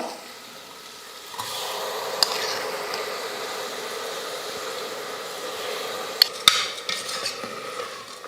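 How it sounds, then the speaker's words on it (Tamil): Rice and moong dal roasting in ghee in a pan, stirred steadily with a soft, continuous sizzle and a couple of sharp utensil clinks against the pan. "அரிசி பருப்பு சேர்த்ததுக்கப்புறம் ஒரு நிமிஷத்துக்கு இந்த நெய்யிலேயே நல்லா வறுத்துக்கலாம்"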